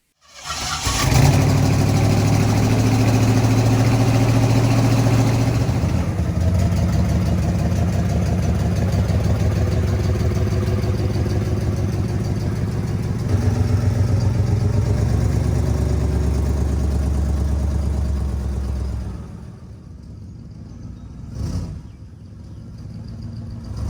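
A 1937 Ford street rod's engine starts and runs at a loud, steady idle with a deep rumble, cutting off near the end, leaving only faint background sound.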